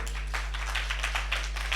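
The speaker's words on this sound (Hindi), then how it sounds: "अरे किसी के अंदर घुसा हो तो ताली तो बजाओ भाई।" A congregation clapping during a Sunday sermon, a run of quick rhythmic claps from a crowd, steady and moderately close over a low hum.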